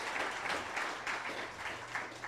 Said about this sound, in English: Let's give him his own round of applause.